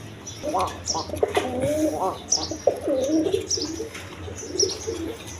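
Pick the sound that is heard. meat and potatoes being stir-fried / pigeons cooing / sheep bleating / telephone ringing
pigeons cooing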